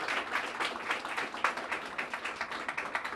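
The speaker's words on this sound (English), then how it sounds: "I really wanted everyone to give a round of applause to the SUM's development team" Moderate applause from a small audience at an outdoor house dedication ceremony, scattered individual claps in an uneven rhythm, fairly quiet and heard without talk.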